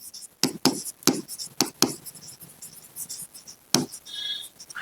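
A pen scratches across paper while working a trigonometry problem, a series of quick, crisp strokes close to the mic, spaced irregularly with short pauses between them.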